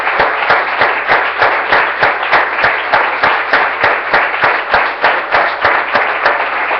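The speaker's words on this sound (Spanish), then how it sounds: "Démosle un aplauso al Señor, hermano." A church congregation claps in a steady, rhythmic beat, sharp even hand claps repeating about twice a second, loud and close, with a dense crowd wash between them and no talk.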